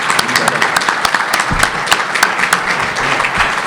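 Audience applause at a talk on the Hispanidad, dense clapping running throughout with some voices mixed in, fairly loud and close.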